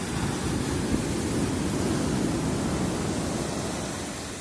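Sea waves washing onto a beach in Turkey in February, a steady broad roar of surf with a gentle swell midway and a slight fade toward the end, loud and continuous with no voices.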